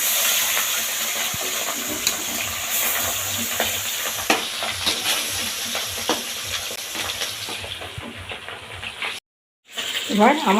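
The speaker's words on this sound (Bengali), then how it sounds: "তেলটা গরম হয়ে গেলে তারপর আমি মাছগুলো ভেজে নেব ট্যাংরা মাছ তো খুব ফাটে" Tangra fish frying in hot oil, a steady broadband sizzle with scattered spits and pops, stirring scrapes and a few clinks over it, then a brief cutoff before the frying resumes.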